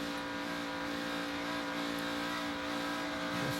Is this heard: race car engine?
yes